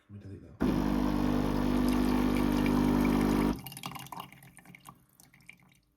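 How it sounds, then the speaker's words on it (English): A Ninja Luxe Cafe coffee machine runs a descaling cycle: a loud pumping hum with a stream of water for about three seconds, then cuts off, leaving soft drips and faint gurgling. "we've now had water coming down into this main container that we've got in the middle here"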